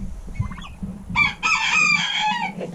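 Chickens clucking nearby on a snowy homestead, with a short burst of squawky calls followed by a louder, sustained crowing-like cackle; no speech.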